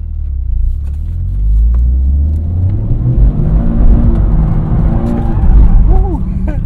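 A Toyota GR Corolla accelerates hard while drifting, its engine a loud, continuous roar that climbs and surges close by, with tire and drivetrain rumble underneath and no talk over it.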